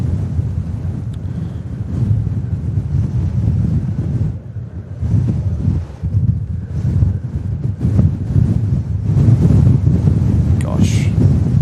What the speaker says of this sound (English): it's getting windier now